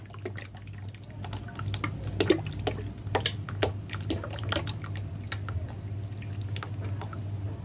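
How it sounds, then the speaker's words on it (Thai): A whole bottle of caramel syrup poured over plums for caramel plum wine, giving soft, close drips, squishes and liquid splashes in an irregular run, fairly quiet and with no talk. "เราจะใส่ไซรัปคาราเมล"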